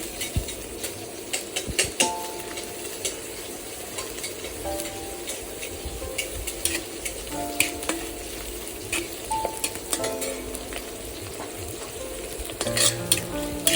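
Onions and green chillies fry in hot oil for a fish curry with brinjal and potato, a steady close sizzle broken by frequent scraping stirs and light clinks of a spatula against the pan.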